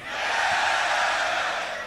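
A crowd at the Grand Beatbox Battle 2019 loopstation semi-final roars and cheers in a sustained, loud, dense wash of voices lasting a couple of seconds.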